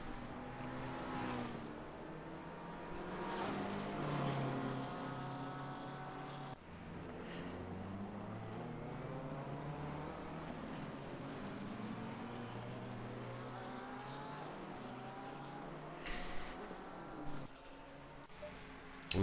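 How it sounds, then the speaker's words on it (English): Porsche Cup race car engine in a racing video game at Spa-Francorchamps, a continuous droning engine note rising and falling through gear changes, steady and fairly loud without speech. "The Porsche cup sound."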